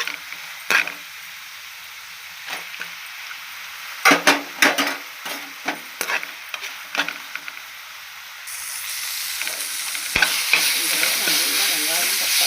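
Onion and tomato frying in a pan for an egg curry: spoon clinks and scraping stirs against the pan over a soft sizzle, which swells into a louder, continuous frying hiss in the last few seconds.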